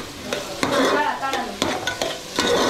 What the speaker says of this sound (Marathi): ते तेलात कांदा टाकतात